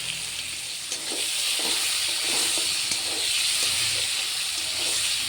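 Chickpeas soaked overnight go into a hot pan with tomato, giving a steady close sizzle with scraping stirs throughout. The frying is for a vegetarian dish of spinach, bori, moong dal and chickpeas.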